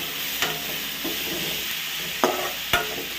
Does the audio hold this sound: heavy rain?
no